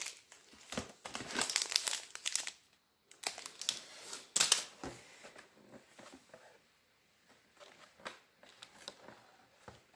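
Paper wrapping being ripped open on an advent calendar gift, in a string of crinkly, crackling tears and crumples, some bursts louder and sharper, with short pauses between them.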